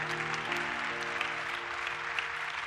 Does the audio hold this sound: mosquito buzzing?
no